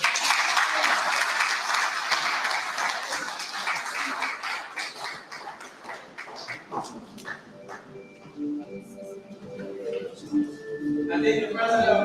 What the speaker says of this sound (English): the president of the university deserves another round of applause